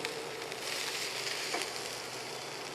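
Carrot and cabbage stir-frying in hot oil for spring roll filling, a soft continuous sizzle close by with a brief scrape of a utensil partway through.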